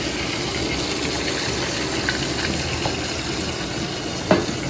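Chicken fillet nuggets frying in oil over medium-low heat, a steady close sizzle and bubbling that stays even throughout, with a faint clink near the end.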